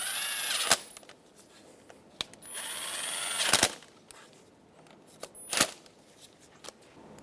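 Ignition coil bolts being snugged down by hand tool on a Chevrolet Sonic, with several sharp clicks and short ratcheting bursts separated by pauses, close and fairly loud.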